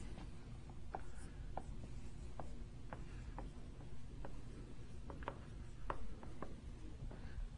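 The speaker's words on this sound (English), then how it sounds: "let me write it down." Chalk or marker writing math on a board during a lecture on Lie algebras: scattered short taps and scratchy strokes in an irregular rhythm, fairly close, over a steady low room hum, with no talking.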